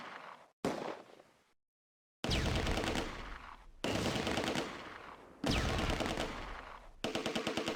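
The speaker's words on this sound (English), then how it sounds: "The Sherman targets it. The Panzer fires back and misses" Tank battle gunfire between a Sherman and a Mark IV Panzer in the Close Combat war game: loud, close bursts of firing broken by short silences, then a rapid rattling volley at the end.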